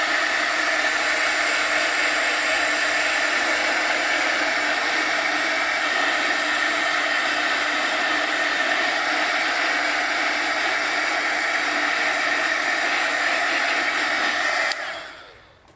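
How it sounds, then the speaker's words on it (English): A heat gun melts embossing powder on a wire mesh butterfly, blowing a steady, loud hot-air roar close by that holds evenly and then cuts off at the end. "we're going to heat emboss this"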